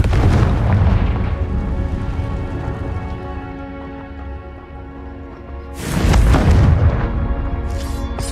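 Blasting-spell explosions in the video game Hogwarts Legacy: a deep booming blast with a long rumbling tail that fades, then a second sharp detonation near the end, loud and close.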